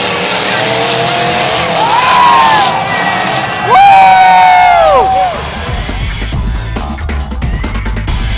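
Several demolition derby car engines at a fair roar to life and rev loudly, pitch rising and falling, over crowd noise and a voice talking.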